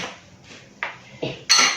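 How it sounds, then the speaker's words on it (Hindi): Dishes washed by hand in cold water: a few separate, close clinks and clatters of pots and utensils knocking together, with no voices. "ये मैं अब साथ साथ बर्तन धोती"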